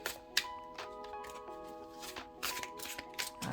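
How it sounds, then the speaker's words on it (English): An inexpensive tarot deck being shuffled overhand, with repeated soft papery riffles and slaps of cards arriving in bursts, close and fairly quiet, with no talking. "it's nice being able to shuffle overhand. It shuffles nicely."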